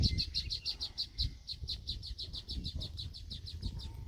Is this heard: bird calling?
yes